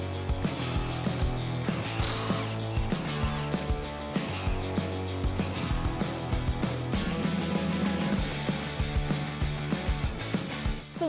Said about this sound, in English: I'm going to undo our end link right here, and this is a 19mm on a 1/2 inch impact